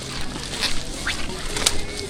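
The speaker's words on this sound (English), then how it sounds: "What is it with me and scaring pigeons?" Pigeons startle and flap away on a seaside town street, a quick flurry of wingbeats and scuffling amid outdoor background noise.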